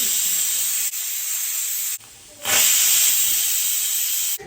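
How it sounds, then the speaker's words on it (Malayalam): A pressure cooker with chicken stew inside vents steam in a loud, continuous hiss with a shrill whistle edge, briefly dropping out twice and surging back stronger after the second gap. "ഇനി കുക്കർ അടച്ച് വെച്ചിട്ട് ഒരു 2-3 വിസിൽ വരുന്നത് വരെ വെയിറ്റ് ചെയ്യാം."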